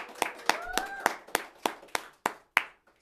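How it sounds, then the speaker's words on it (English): A few people clap sparsely during a school morning broadcast, about ten distinct claps spaced irregularly, close and fairly quiet, with faint background murmur. "Come on, more people clap."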